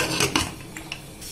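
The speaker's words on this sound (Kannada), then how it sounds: "ನಾನೀಗ ಕುಕ್ಕರ್ನ ಕ್ಲೋಸ್ ಮಾಡಿ" Short metallic clanks and scrapes as a pressure cooker lid is fitted and closed in a home kitchen while egg biryani cooks, with a few close, separate knocks over about a second.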